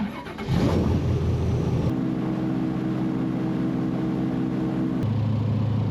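A 700-horsepower airboat engine on a Florida Everglades tour starts with a sputter, then roars into a loud, steady drone that holds for several seconds before dropping slightly in pitch, close and unbroken.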